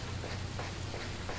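Steady rain falling in the San Francisco streets of a bus and cable car simulator game; a dense, even hiss of rain, continuous and close, with no talk.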